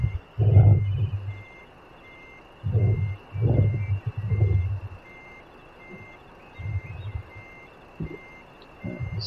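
In Euro Truck Simulator 2, a truck's reversing alarm beeps steadily at a regular interval while the low engine rumble swells and fades in several bursts as the vehicle backs up.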